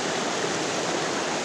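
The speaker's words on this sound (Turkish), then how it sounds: "Fakat o küçük şelalenin görüntüsünü aldım." A small waterfall in Çona canyon rushes in a steady, full white-noise roar, close and even in level with no other sounds.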